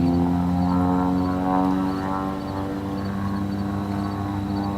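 Aerobatic airplane's propeller engine droning through an aerobatic turn, a steady harmonic buzz that shifts slightly in pitch as the plane banks, moderately distant and alone.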